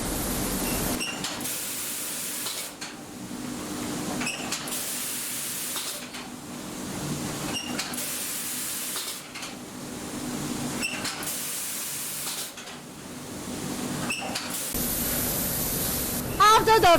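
Spray guns on an automated painting line coat rice cooker inner pots with non-stick paint, giving loud hissing bursts that come in repeated cycles with short gaps between them, over a steady industrial hum.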